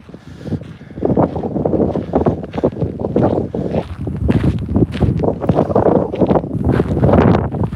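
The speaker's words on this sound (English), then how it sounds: "Very windy." Strong outdoor wind buffets the microphone in loud, continuous gusts for several seconds during a runner's training outing, with low rumbling bursts and no voices.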